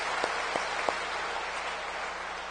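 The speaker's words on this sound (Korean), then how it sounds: "꽃꽂이 하시느라고 애쓰신 분들 우리 박수 한번 해드릴까요?" Church congregation applauding at a Thanksgiving harvest service, a soft steady patter of many hands with a few sharper claps near the start, moderately distant and even throughout.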